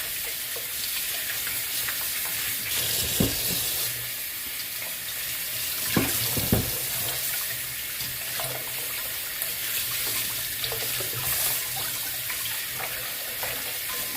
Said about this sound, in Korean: 이제 흐르는 물에서 한 번 더 헹궈서